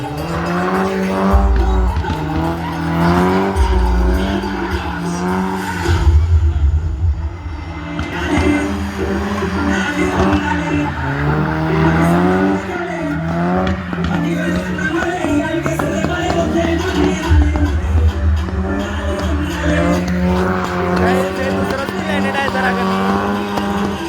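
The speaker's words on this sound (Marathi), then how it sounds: "भरपूर गाड्या आहेत, म्हणजे तुम्ही तिकडे बघू शकता." Many cars at a motor event rev and drive with repeated tire squeals and skids, loud and continuous, while voices talk over the engine noise.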